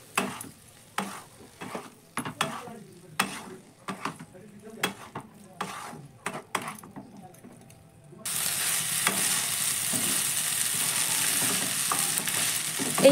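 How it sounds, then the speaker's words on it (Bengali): Pasta stir-fried with masala in a pan over a low flame: repeated rhythmic scrapes and taps of a spatula, then a sudden loud, continuous sizzle for the last few seconds. "2 মিনিট ভালো করেই আমি এখানে কষিয়ে নিয়েছি পাস্তাটা।"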